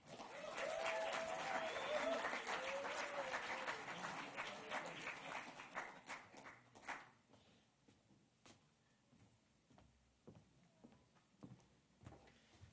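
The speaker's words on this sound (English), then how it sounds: "So please give him a round of applause." An audience at a Catholic speaker-series talk in Washington, D.C. welcomes the guest with applause. Strong, dense clapping lasts about six seconds, then thins into scattered, fading claps.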